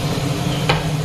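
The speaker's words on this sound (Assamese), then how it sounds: "অকণমান সময় ভাজি লম" Ingredients fry in a pan for an Assamese-style small fish piyaji. A steady close sizzle plays for about a second, broken by one brief stirring scrape.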